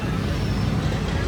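Congested city road traffic fills the air with a thick, continuous rumble of engines and vehicle noise, loud and close, with murmuring voices mixed faintly underneath.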